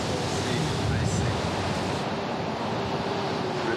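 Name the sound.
ocean waves and surf at Bali beach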